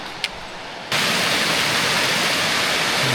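A rainforest river rushes hard over rocks, a loud continuous broadband roar that surges in abruptly after a quieter opening with a single faint click, then holds steady and close.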